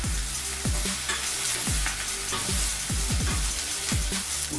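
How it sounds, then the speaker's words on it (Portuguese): Shrimp shells and garlic stirred in a frying pan for a fish stew side, a steady loud sizzle broken by repeated scraping strokes of the spoon against the pan. "Vamos mexer."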